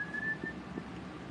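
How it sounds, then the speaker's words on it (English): A person whistles a thin, faint held tone in an antique mall, quiet and brief against low background noise. "He's whistling again."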